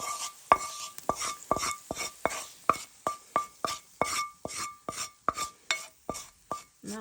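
Peppers, onions and bacon stirred into cooking beans with a utensil, a steady run of sharp scraping clinks against the pot about twice a second, close and alone.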